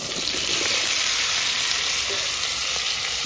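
Chopped mixed vegetables sizzle in hot oil with ginger and green chili on a new stove, a steady loud bright frying hiss filling the whole stretch with faint stirring, no talk.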